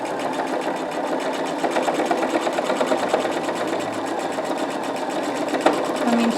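Electric sewing machine stitching through layered fabric for a face mask, running in a fast, steady mechanical chatter up close, with a brief click near the end.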